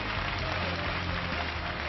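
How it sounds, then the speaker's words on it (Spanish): A steady wash of applause from a group on a mountaineering expedition, dense and even for about two seconds with no distinct voices. "Un fuerte aplauso para Juanito."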